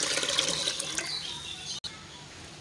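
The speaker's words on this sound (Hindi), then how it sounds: "अब हम इसमें 2 लीटर पानी ऐड करेंगे।" Two liters of water pour into a pressure cooker holding lentils, barley, wheat and rice for beef daleem, a steady hissing gush that stops abruptly near the end.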